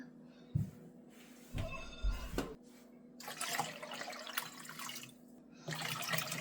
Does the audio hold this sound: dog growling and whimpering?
no